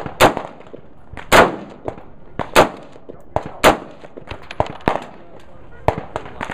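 A Winchester .30-06 rifle firing 150-grain ballistic silver tip ammunition, sharp loud reports in a steady series of about six shots roughly a second apart, with quieter clicks and handling sounds between them.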